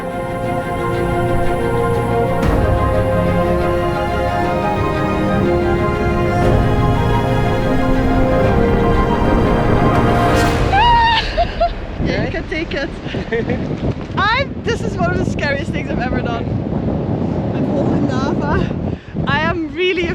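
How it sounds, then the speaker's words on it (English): Strong wind gusting across the Hillary Bridge on the trek to Everest Base Camp, buffeting the microphone with continuous rough rumble while people talk and exclaim over it. "it's insanely windy"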